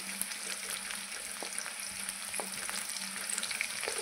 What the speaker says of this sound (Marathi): ह्या मिरच्या पण आपल्याला मस्त परतून घ्यायच्या आहेत